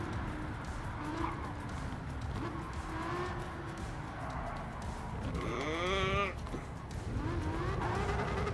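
Hypercar at the 24 Heures du Mans circuit in Gran Turismo 7, its engine humming continuously with shifting pitch sweeps and a brief skid-like squeal, layered under a talking voice.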